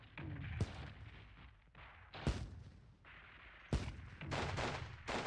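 Gunfire in the Squad Battles war game: several sharp, loud single shots ring out at irregular intervals over a steady low rumble of distant battle noise, with no talk.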